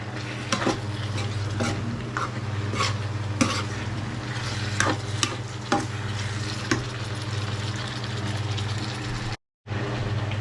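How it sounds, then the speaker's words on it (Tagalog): Food fries in a pan with a steady, close sizzle, broken by irregular clinks and scrapes from stirring, over a low hum, with no one speaking. "Sumisigit-sit na."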